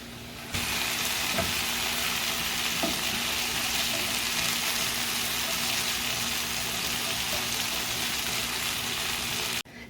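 Chicken pieces for homemade shawarma fry uncovered in a pan, giving a steady, even sizzle that holds for the whole stretch, with a few soft knocks from stirring or shifting pieces and no voices.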